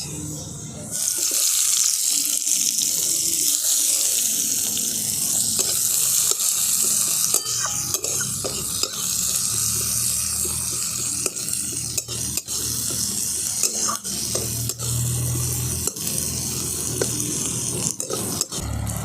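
Chopped onions sizzling steadily in hot oil with cumin, with frequent scrapes and clinks of a spoon stirring the pan throughout, close and continuous.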